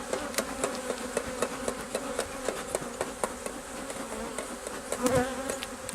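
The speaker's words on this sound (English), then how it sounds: "Just a large bee." Honeybees buzz steadily around an open hive during a pre-harvest inspection, a dense close swarm drone with brief louder passes near the end.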